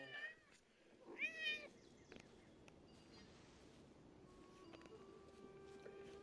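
A cat meows twice near the start, the second call longer and wavering, then quiet indoor shuffling and faint clicks follow at low level.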